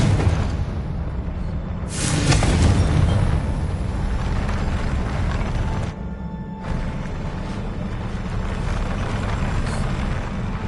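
Confringo blasting curse from Hogwarts Legacy bursting as a loud, broadband rumbling explosion around two seconds in, over continuous dense game noise with a brief dip near six seconds.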